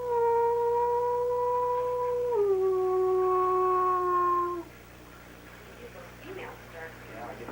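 A person imitates a wolf howl with one long, steady, wavering tone that drops in pitch partway through, then quiet background noise follows.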